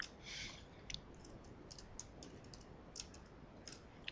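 Computer keyboard keys tapped in a quiet room, a faint irregular run of soft clicks with short pauses between strokes and no voices.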